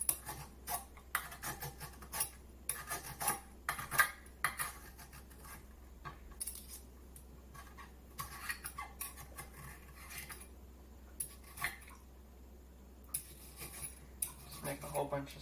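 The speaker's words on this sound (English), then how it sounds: "Make a whole bunch of slices of carrot." A knife slices through a carrot in a kitchen, a string of quiet, crisp cuts and board taps coming in irregular bursts, separated by short pauses.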